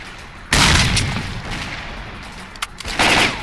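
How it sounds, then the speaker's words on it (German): Grenade blast and bursts of gunfire in the shooter S.T.A.L.K.E.R. Clear Sky: a sudden loud boom with crackling shots, a quieter stretch of scattered fire, then a second heavy burst near the end. "Ich werde mal eine schöne Nade schmeißen."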